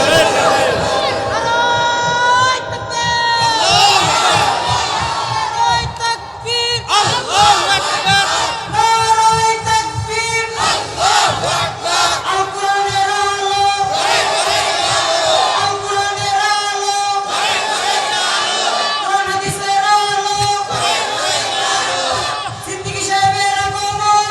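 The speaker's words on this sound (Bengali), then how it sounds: "এ বান্দা স্লোগান বন্ধ রাখেন" Large sermon crowd at a religious gathering shouting takbir slogans in loud, sustained massed voices, rising and falling in repeated bursts over music-like tonal backing throughout.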